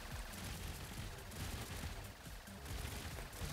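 Guns mounted on a plane in the video game Trailmakers fire in a dense, continuous burst of rapid shots, steady throughout and moderately quiet, with no speech.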